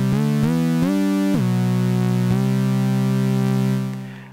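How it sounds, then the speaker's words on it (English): An Ensoniq ASR-10 vintage sampler plays layered waveform B28 from the Carpenter Sawdust set. A steady, buzzy sustained tone is struck by a few sharp retriggers early on, then holds before fading out at the end. "We're going to start with waveform B28 from the Carpenter Sawdust, which sounds like this."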